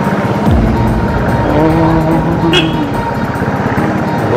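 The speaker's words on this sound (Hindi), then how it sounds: "Too much of traffic." Dense road traffic in a busy Gangtok market street, with engines and horns under steady nearby crowd chatter; a vehicle passes close by early on and a brief horn blares near the midpoint.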